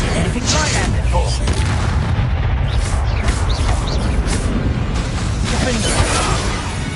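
Confringo explosive spell blasts in Hogwarts Legacy, a dense run of loud booming bursts and crackling impacts over several seconds, with a voice speaking over the combat.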